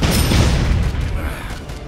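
A grenade goes off in the zombie game Dead Rising 4, a loud close boom with a broad rumbling blast that decays over about two seconds.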